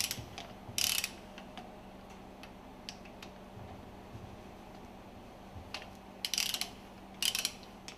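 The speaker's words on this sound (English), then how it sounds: "Loosen and remove the screws from the plunger and barrel assembly." Screws being loosened and removed from the plunger and barrel assembly of a ship's main engine fuel pump, heard as a few sharp metallic clicks and ratcheting bursts spread over quiet, steady background hum.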